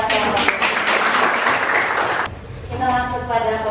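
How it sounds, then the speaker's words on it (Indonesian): Classroom applause for a student group, a dense patter of clapping from many hands for about two seconds that then stops abruptly, followed by a voice speaking. "terima kasih tepuk tangan buat kelompok"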